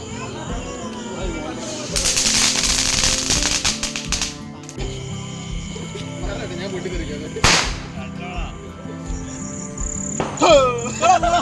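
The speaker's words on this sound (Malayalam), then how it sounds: "അമ്പാളുടെ കൂട്ടുകാർ മൊത്തം കുറേ പടക്കമായിട്ട് വന്നേക്കുന്നത്. അപ്പോൾ എല്ലാം കൂടി പൊട്ടിക്കാൻ പോവാം." Firecrackers set off by a group of friends during Onam festivities, a dense burst of rapid crackling pops followed by a few sharp isolated bangs, with people talking throughout.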